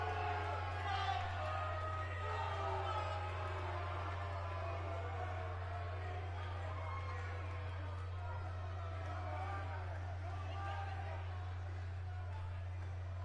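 Crowd noise in the WWE 2K18 wrestling video game, a steady distant murmur of cheering and babble under a constant low hum, with a commentator speaking over it.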